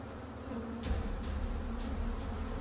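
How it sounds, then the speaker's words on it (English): A strong, steady humming buzz like a swarm of insects, heard up close and continuous throughout, with no voices. "The humming was strong, almost like a buzzing."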